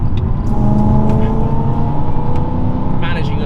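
A Stage 2 tuned BMW E92 M3 driven hard, its engine droning loud and steady from inside the cabin with a constant low growl and slight rises in revs, and a brief higher squeal near the end.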